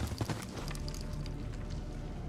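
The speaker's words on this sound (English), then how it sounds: "I hear footsteps. Moving left." Footsteps in the Call of Duty: Modern Warfare 2019 campaign, a run of quick close steps over a steady game ambience with low rumble, fairly loud and without talk.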